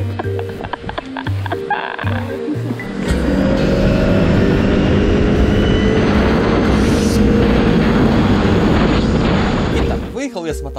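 A CFMOTO X10 motorcycle starts off with a few short engine blips amid talk, then pulls away into a loud, sustained roar that rises and holds before easing near the end.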